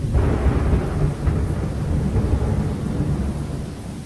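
Heavy rain and rolling thunder in the Lost Horizon video game form a loud, continuous low rumble over a dense rain wash.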